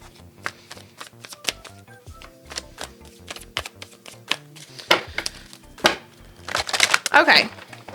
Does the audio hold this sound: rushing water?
no